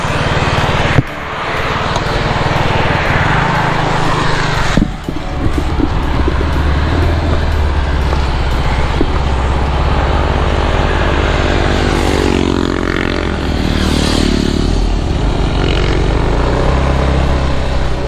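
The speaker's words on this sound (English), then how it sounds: "you have a truck here that's driving in the shoulder." A truck drives along the shoulder of a road in a small Thai village amid traffic, its engine roar loud and steady and a vehicle passing close, with no talking.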